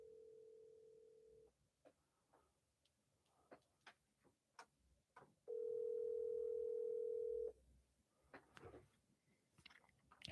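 An outgoing phone call rings back with two long, steady tones separated by a pause, while light clicks and small mouth sounds are heard close by in a quiet room.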